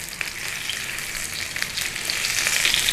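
Black pudding fries in a pan for a full English breakfast, a close, steady crackle and sizzle of hot fat with no voices.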